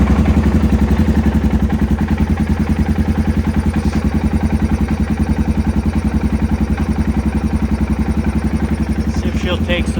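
A Polaris Sportsman 570 ATV engine runs at a loud, steady idle, its rapid even chugging close by with a faint clatter and no pause throughout.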